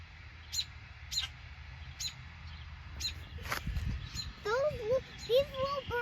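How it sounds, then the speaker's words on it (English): A mother robin calling from a tree near a nest of newly hatched chicks: short, bright chirps come every second or so, then a quicker run of warbling calls near the end, over faint outdoor background noise. "You can hear it chirping at us."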